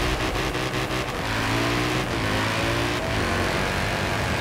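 A V8 engine of a Mercedes SLS police car in Forza Horizon 4 revs and drones loudly and continuously, with rising and falling pitch as gears shift.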